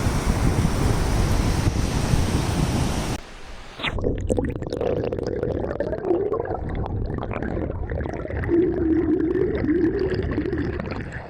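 Broad rushing noise of sea waves and wind buffeting the microphone at Muzhappilangad Drive-in Beach, Kerala, briefly cutting out, then continuing with a low engine-like rumble underneath.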